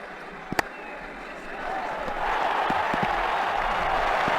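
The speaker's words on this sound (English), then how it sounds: "The crowd really enjoyed that one." A stadium crowd in the Ashes Cricket 2009 video game swells into sustained cheering and applause after a shot, building from a quieter murmur to a loud, steady roar with a few sharp claps early on.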